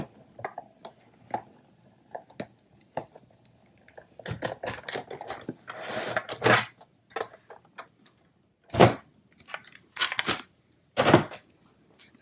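A Garden Trellis embossing folder sandwich is cranked through a manual die-cutting and embossing machine, making scattered close clicks, taps and short grinding bursts at low level, without talk.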